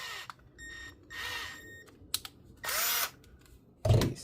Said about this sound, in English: Let's try and drill it sideways this way.